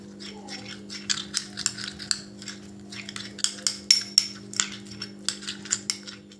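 A spoon mixes a potato juice face pack in a bowl, making a run of sharp clinks and taps that speed into a quicker rhythm partway through, over a faint steady hum.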